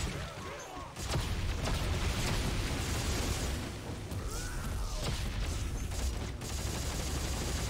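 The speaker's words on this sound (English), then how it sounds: "I have no idea what I just fired my chain gun at there" Sustained chain gun fire in the video game Dead Space 3, a loud, continuous roaring stream of rapid shots and blasts running for several seconds with only brief dips.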